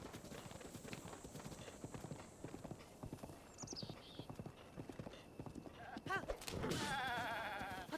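Hooves clip-clop steadily in Breath of the Wild, with a goat's bleats rising near the end over a louder burst of game sound; the hoofbeats stay close, quick and rhythmic throughout.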